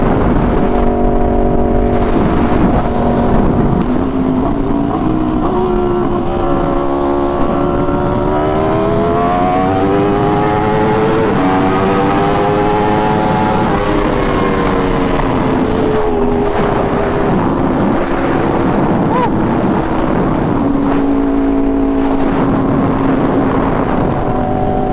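A motorcycle rides steadily over bumpy roads on loose, soft suspension, its engine droning loud and close with rising and falling pitch as the revs shift, the rumble continuous throughout.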